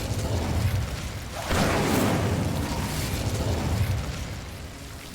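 A fire spell cast in Hogwarts Legacy erupts as a loud, broad whoosh-boom that swells suddenly and sustains for a couple of seconds over steady game ambience, then fades back down.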